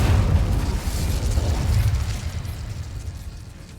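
A fire spell erupts with a heavy, rumbling blast in a fantasy wizarding video game, the deep roar swelling at once and then slowly fading over a few seconds, with no voices over it.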